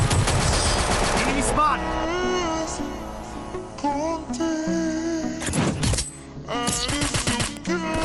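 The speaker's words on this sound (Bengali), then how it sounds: "এখান থেকে কিন্তু অটোমেটিক ফায়ার বের হয়ে যাচ্ছে" Automatic weapon fire in a round-based team shooter video game: loud rapid bursts of shots mixed with tonal game effects and sounds, cutting in and out over several seconds.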